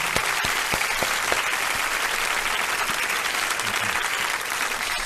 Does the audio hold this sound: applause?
yes